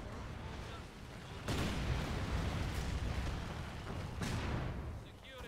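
Mortar and artillery fire in the Company of Heroes 2 video game, heavy booming blasts with rumbling tails, two strong impacts amid continuous battle noise and game voices.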